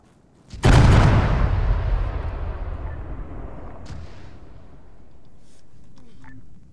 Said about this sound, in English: UAV, did you just drop a cruise missile on HQ?